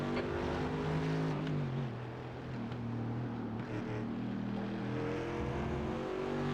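A car engine in a racing video game hums and revs steadily throughout, with sustained tonal drone and shifting pitch, loud and continuous with no talk.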